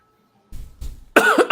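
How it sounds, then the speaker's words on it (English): A few short coughs close to the mic, starting with two softer bursts and ending in a louder, harsher cough. "what the fuck is this cough?"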